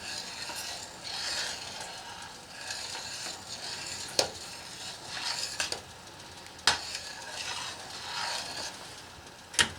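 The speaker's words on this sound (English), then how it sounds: "I'm going to keep stirring this because I'm not going to let this thing go wild" Boiling redbud jelly bubbles in a pot while a spoon stirs it steadily, with a frothy hiss and several sharp clacks of the spoon against the pot's rim, close and moderately quiet.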